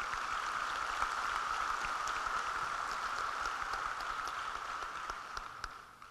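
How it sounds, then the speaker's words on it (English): A crowd at a high school graduation applauds in a large hall, a steady rain-like wash of distant clapping that holds for several seconds and then gradually fades out. "let's give them a round of applause for the work they have done"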